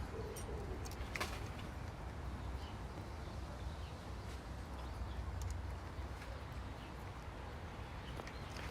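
A pigeon coos softly outdoors in the UK, a low, faint call heard among quiet background noise with a few sharp distant clicks.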